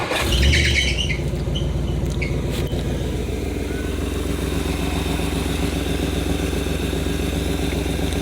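A 1959 Edsel engine, recently converted from a generator to a one-wire alternator, cranks with a brief squeal and catches, then settles into a steady, close, rumbling idle that runs on evenly.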